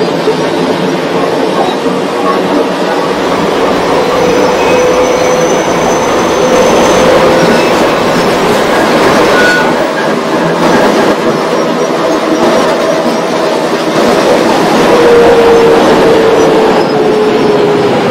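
A northbound J skip-stop subway train in the OpenBVE train simulator game runs loud and steady, with a continuous rumble, wheel clatter and occasional faint squeals throughout.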